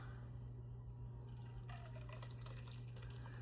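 Boiling water poured from a container over All-Bran cereal in a kitchen, a soft steady trickle that swells into a fuller splashing pour partway through, over a constant low hum.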